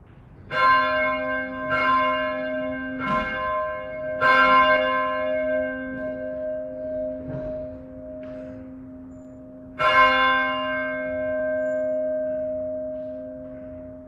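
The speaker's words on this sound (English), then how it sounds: "listen to the pealing of the bell" A church bell rings out in a series of strong, resonant strikes, each leaving a long humming decay that overlaps the next, with a lingering tone between peals.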